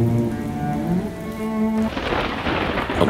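Steady heavy rain pours down with a low rumble of thunder beneath it, loud and continuous, while a tonal voice or music fades out partway through.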